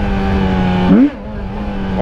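Yamaha XJ6 motorcycle engine with stock exhaust, a loud steady close drone that swells in a quick rev and then drops back to a lower hum; a brief exclamation is heard.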